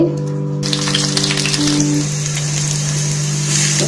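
Spices hit hot oil with a sudden loud sizzle that settles into a steady crackling hiss, close up, over a low steady hum.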